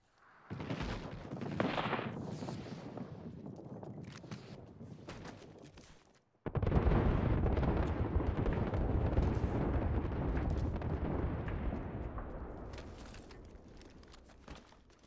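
Artillery strike explosions from Bangalore's ultimate in Apex Legends, a heavy rumble that builds, breaks off briefly, then returns as a loud, sustained barrage of booming blasts and crackling impacts that slowly fades.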